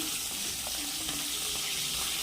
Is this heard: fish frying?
yes